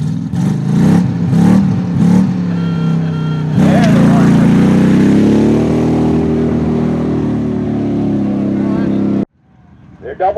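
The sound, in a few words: blue Chevrolet racing at a redneck hybrid rally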